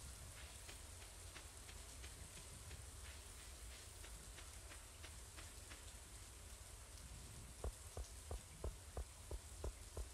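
Green Rain falling in the video game Stardew Valley, a steady soft hiss of rainfall. Toward the end, a short series of regular ticking taps joins it.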